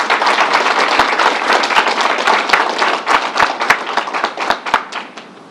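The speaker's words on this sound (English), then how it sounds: "Let's give them a round of applause." A small group at a New York coronavirus press briefing gives a round of applause, loud and close at first, then thinning into scattered, distinct claps as it winds down.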